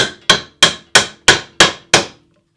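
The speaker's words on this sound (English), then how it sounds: "taking my hammer, and then just hammering that down until the handle slides back out" Seven loud, sharp hammer strikes ring out evenly, about three per second, as a hammer drives a wooden drift down through an axe head to knock out the handle, then silence.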